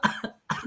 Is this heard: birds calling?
no